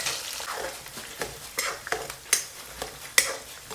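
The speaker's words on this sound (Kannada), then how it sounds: "ಗ್ರೀನ್ ಚಿಲ್ಲೀಸ್ ಇದರಲ್ಲೇ ಫ್ರೈ ಮಾಡ್ತಾ ಇದ್ದೀನಿ ನಾನು" Green chillies frying in a pan, a soft sizzle broken by irregular scraping stirs and a couple of sharp metallic clinks of the spoon against the pan.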